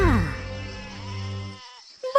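A sheep bleats in an animated village story, a drawn-out wavering bleat that starts loud and close, then fades, followed by a short sharp sound at the end.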